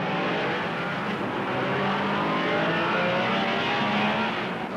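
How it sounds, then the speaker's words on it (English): 1960s Ferrari and Porsche sports racing cars on a race circuit, a continuous loud engine roar that holds steady for several seconds with no voices. "The Rodriguez Ferrari dropped back to second, passed by Hill and Gendebien"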